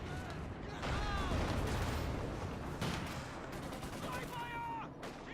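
Tanks and infantry trade fire in a World War II real-time strategy battle between German and Soviet forces, with continuous overlapping gunfire and shell impacts, a heavier burst near the middle, dense and steady throughout.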